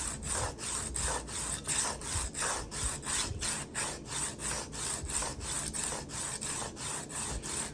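Rapid back-and-forth abrasive rubbing of 320 grit sandpaper on a Kabar knife blade, a steady rhythmic scrape of roughly two strokes per second, close and continuous with no talking.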